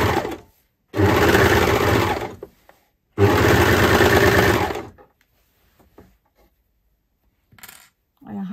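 A sewing machine stitches a circle skirt in two long, steady runs of whirring motor noise, each a couple of seconds, separated by a brief pause and followed by quiet handling sounds.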